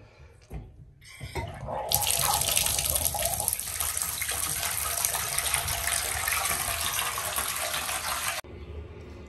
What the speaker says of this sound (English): So this I'm going to be wrapped in a bath of water, obviously.